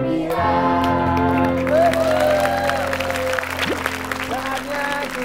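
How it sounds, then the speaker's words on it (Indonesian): Audience applause at the Dunia Ceria children's show, a busy clapping wash mixed with sustained musical tones and a voice, fairly loud and continuous. "Sekali lagi, sekali lagi, tepuk tangan kita semua bergembira."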